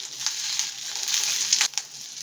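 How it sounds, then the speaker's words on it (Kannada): Curry leaves and asafoetida fry in hot oil for a rasam tempering, giving a soft, steady crackling sizzle with a few sharper pops near the end. "ಇವಾಗ ಇದೆಲ್ಲ ಫ್ರೈ ಮಾಡ್ಕೊಳ್ಳೋಣ."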